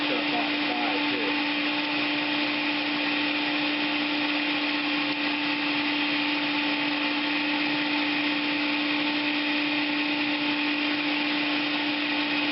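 A blender whirring on protein mousse, a loud, steady motor drone held evenly and close throughout without pause.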